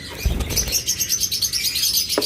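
Caged pet birds, top-marked with red tails and fully red heads, call in a busy chorus of bright repeated chirps and tweets, with a low thump near the start and no talk.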